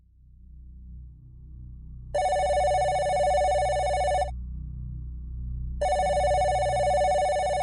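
Two long bursts of a telephone bell ringing for an incoming call, loud and steady with a pause between, over a low background hum, no talking.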